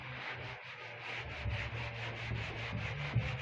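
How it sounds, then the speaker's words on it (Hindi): Steady rubbing on a board, erasing written maths working in a class lesson, a continuous close scrubbing that swells in regular strokes for a few seconds with no talk. "इसको रब कर देता हूं मैं"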